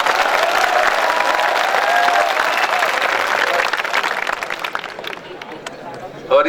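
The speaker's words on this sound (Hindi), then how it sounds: "ये मोहल्ला तालियां बजा रहा है।" Audience at a night-time Hindi poetry gathering (kavi sammelan) at a school institute clapping steadily and loudly, a sustained wash of applause that thins toward the end.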